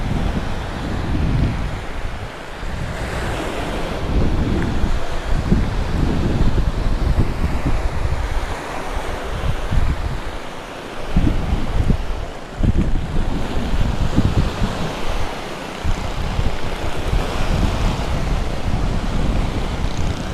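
Sea waves and wind at a sea wall on a Thai island coast, a continuous loud roar of surf with gusty wind buffeting the microphone and surging rises and falls, no voices.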